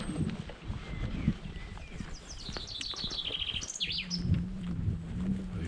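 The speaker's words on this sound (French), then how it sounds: "Et puis entendre le chant des oiseaux le matin." Birds chirp and sing in quick descending trills in the morning in the mountains, clear but moderately distant, over a soft outdoor background with faint low thuds.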